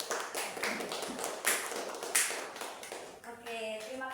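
Applause for a student in a microteaching history class: a quiet, quick patter of hand claps from a small group. It fades near the end as a voice starts speaking.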